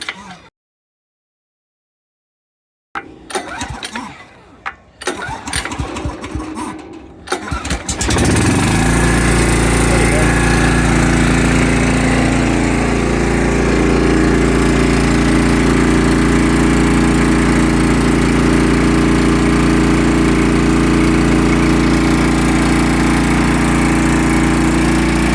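A Snapper 36 inch walk-behind lawn mower engine turns over after a few seconds of silence, catches, and settles into a loud, steady idle that runs on unbroken to the end.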